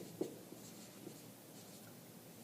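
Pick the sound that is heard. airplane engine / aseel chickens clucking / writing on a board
writing on a board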